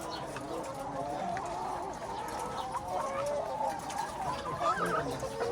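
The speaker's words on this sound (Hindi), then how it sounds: "मुर्गियाँ कह रही है।" Hens on a poultry farm cluck continuously, several birds overlapping in a busy, moderately close chorus of short repeated calls.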